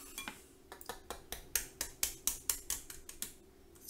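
An eggshell is tapped repeatedly to crack a hole in its top, giving a steady run of about fifteen sharp, close clicks at an even rhythm. The clicks grow slightly louder midway and no one speaks.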